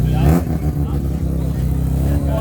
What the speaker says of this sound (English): Mustang. Oh, the thing is supercharged.